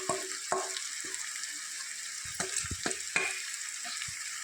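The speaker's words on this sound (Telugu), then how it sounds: "అల్లం కొంచెం దూరగా వేగిన తర్వాత మనం ఇందాక ప్రిపేర్ చేసుకున్నటువంటి చేప ముక్కలు ఇందులో వేసుకుంటాం." Fish pieces and ginger frying in a pan for a fish curry, a steady close sizzle with a few sharp clinks and scrapes scattered through it, no voices.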